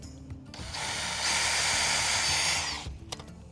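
A power drill bores pilot holes into a wooden bunk board for a boat trailer, its high whine running steadily for about two seconds before stopping.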